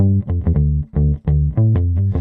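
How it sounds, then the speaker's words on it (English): Rickenbacker electric bass guitar through a cabinet effect, playing a run of plucked notes with a fuller, roomier tone and slightly longer sustain, notes blending into one another. "So with cabinet on, it sounds like this."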